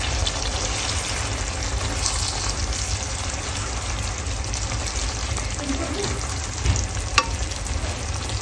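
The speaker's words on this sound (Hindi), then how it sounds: "अभी इसको थोड़ा सा कबाबों को आराम से मसाले के साथ हम भून लेंगे" Kebabs frying with masala in a pan for handi kebab, with a dense, continuous close sizzle and occasional soft stirring sounds.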